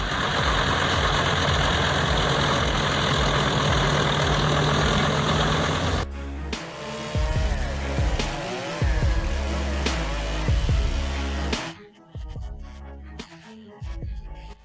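A Cat C27 diesel engine of over 1,000 horsepower roars under load while a debarker and chipper process dried spruce logs, with loud continuous engine drone, grinding and clattering that shifts in texture partway through, then drops to intermittent knocks near the end.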